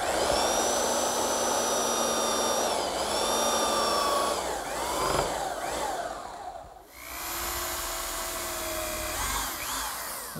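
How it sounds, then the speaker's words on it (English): A belt sander trims excess wooden dowel flush on a slant top writing desk, giving a steady, close, high whining motor drone that briefly dips near the end before resuming. "now I'll just use my belt sander to remove the excess dowel"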